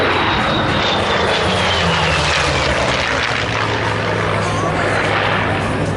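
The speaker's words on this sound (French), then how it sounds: "je vous parlais des caractéristiques du Skyraider comme avion d'attaque au sol" A Douglas Skyraider propeller ground-attack aircraft roars loud and steady overhead at the Gap-Tallard aerodrome air show, its engine drone and pitch shifting as it passes, with a voice faintly under the noise.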